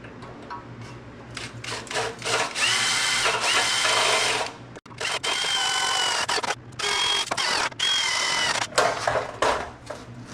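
Drill boring holes for rivet nuts on a Turbo LTx S10 during cooling system and intercooler work, several close, loud bursts of high whine separated by short pauses.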